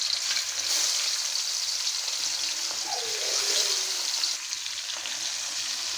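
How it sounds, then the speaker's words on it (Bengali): Fish frying in mustard oil in a pan, giving a continuous close sizzle and crackle across the whole stretch with no talk. "এই যে আমার মাছটা ভাজা থেকে থাক"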